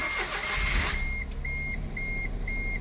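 A Smart Fortwo starts up on a newly programmed key: a short cranking burst as the engine catches, then a low idle under a run of evenly spaced dashboard warning chimes.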